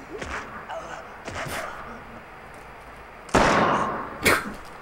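Sharp gunshots crack in the video game Project Eden, a couple of loud bursts among scattered bangs, with people talking over them.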